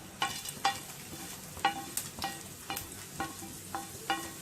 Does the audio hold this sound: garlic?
yes